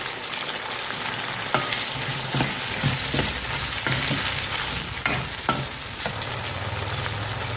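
Ingredients for a mango sambar sautéing in a pan, a loud continuous sizzle with occasional scrapes and clinks of a spoon stirring, close by and without talk.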